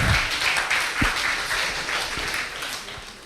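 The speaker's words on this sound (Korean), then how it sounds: "박수 한번 칠까요?" Applause from a young adults' gathering at a church summer retreat evening service, a broad spread of clapping that starts strong and gradually tapers off, with a few low thumps underneath.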